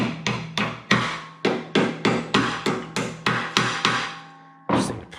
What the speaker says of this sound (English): Get the hammer here.